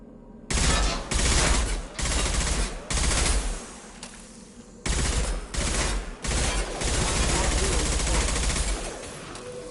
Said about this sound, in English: Sounds like Fenris mechs.